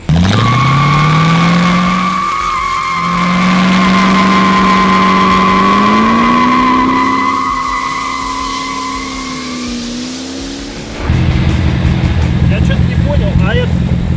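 A car wheel spins and skids, a loud sustained engine whine and tire howl rising and falling in pitch for several seconds, then a rougher roar, close and dominant.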